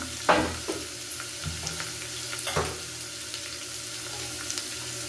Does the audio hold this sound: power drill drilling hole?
no